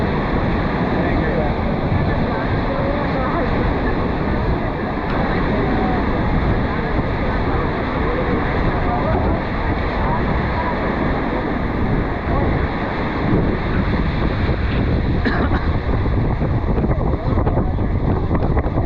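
Strong wind buffets the microphone aboard the Maid of the Mist boat at Niagara Falls, a loud continuous roar mixed with rushing water that never lets up.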